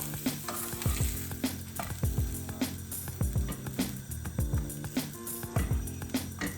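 Prawns on toast shallow-fry in oil in a pan, crackling and sizzling loudly and close up with constant spitting pops and some scraping as the pieces are turned.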